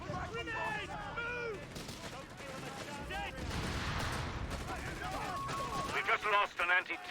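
Battle sounds from the video game Company of Heroes 3 with British forces, bursts of gunfire and explosions mixed with in-game unit voice lines and other game effects.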